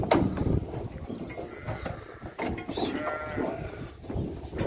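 Old sheep bleating close by during loading for slaughter, several wavering calls over a rough, noisy background, with nobody talking.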